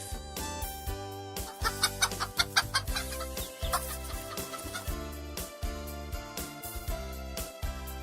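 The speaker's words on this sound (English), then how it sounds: "Hen gives eggs." A hen clucks in short repeated bursts, mixed over a busy, bright instrumental music track that carries on throughout.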